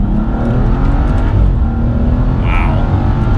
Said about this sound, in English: So we'll do a slower speed acceleration from 1st gear.